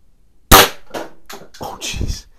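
A single sharp crack from a .22 caliber break-barrel air gun blowing away a shotgun shell target, followed at once by someone talking.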